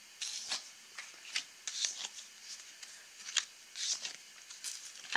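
Tarot cards are turned over and handled close by, soft papery flicks and rustles spaced irregularly across a few seconds with no talk.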